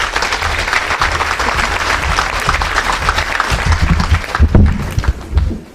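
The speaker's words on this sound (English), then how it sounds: "give him a big round of applause for his really hard work and his great idea" A crowd at the Drogheda Minds Exhibition breaks into a big round of applause, sustained dense clapping with a few louder bursts and crowd noise toward the end, close and lively.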